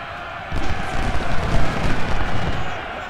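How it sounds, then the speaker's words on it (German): Cannon and musket fire rumble in an Ultimate General: Civil War battle at Chancellorsville, a loud rolling barrage of booms and crackling volleys sustained throughout. "Jetzt stören mich da die Kanonen"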